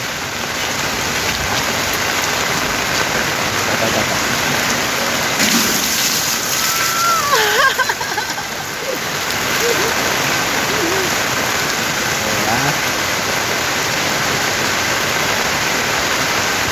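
Heavy morning rain pouring down onto a rooftop deck, a loud steady roar of water throughout, with a voice chanting briefly and faint calls over the downpour.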